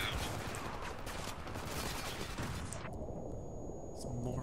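Sustained gunfire and rumbling blasts from a Spec Ops: The Line firefight roar steadily under shouted voices, fading slightly toward the end.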